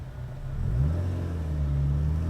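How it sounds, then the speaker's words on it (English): A Renault Clio hot hatch engine rises in pitch as it pulls away, the low exhaust note growling and climbing steadily, heard from inside the car with the window down. "I'll try the pull away again with the window down to see if you can hear the exhaust note"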